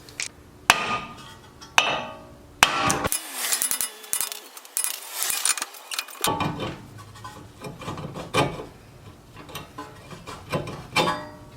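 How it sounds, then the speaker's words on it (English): Sharp metallic hammer blows ring out in irregular bursts, close and loud, with clanks and scraping between strikes, as a brake disc is hammered out of a 2006-2011 Honda Civic. "I am going to have to hammer it out."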